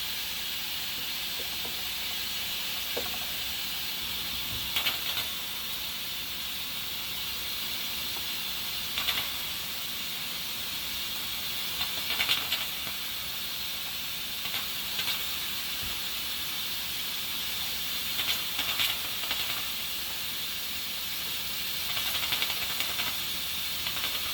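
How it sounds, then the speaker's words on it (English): Meat steams in a covered pot, making broth for okra stew. A constant soft hiss holds throughout, with occasional faint clicks and light knocks and no talking. "Currently steaming, creating a nice broth, cooking itself away over there."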